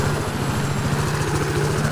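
A helicopter in the Battlefield 4 video game throbs with a steady, rapid low rotor pulse and engine drone, close and continuous throughout.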